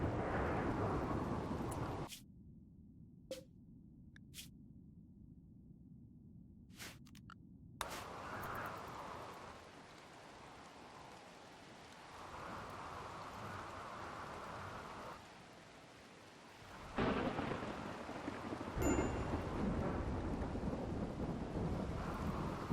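Rain and thunder from the video game RimWorld: a steady wash of rainfall with deep rolling thunder, dropping to a quieter hiss midway before the downpour swells loud again toward the end, with no talking.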